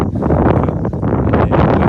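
Gusty wind buffets the microphone in a continuous, rough rumble with rustling bursts, loud and close.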